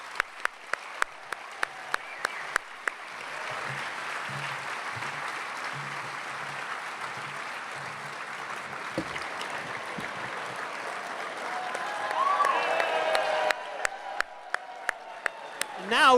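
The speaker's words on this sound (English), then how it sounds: "Let's give all of our Golden Badger Award winners another round of applause" Audience at the 2016 Wisconsin Film Festival's Golden Badger Awards applauding the award winners, a steady round of clapping from a full room that swells near the end, with a few sharp individual claps at the start and close.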